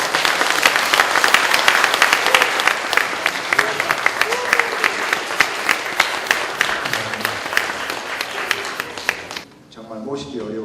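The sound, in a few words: audience applause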